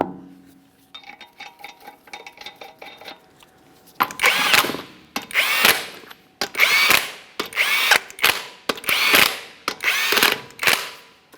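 A power tool spins 22mm lug nuts onto a 2017-2024 GMC Acadia wheel in a run of about seven loud, close, rhythmic bursts, each ending in a ratcheting rattle, after a few seconds of softer mechanical clatter.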